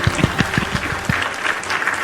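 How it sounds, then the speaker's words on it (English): Audience applause for a special guest at a live show, a dense patter of hand claps that swells early and then carries on steadily at moderate volume throughout. "Everybody give them a round of applause."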